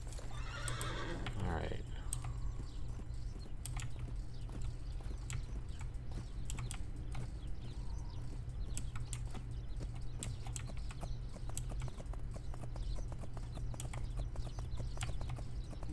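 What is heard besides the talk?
horse neighing and hooves in video game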